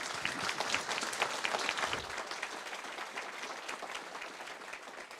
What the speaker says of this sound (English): Give your candidates a round of applause.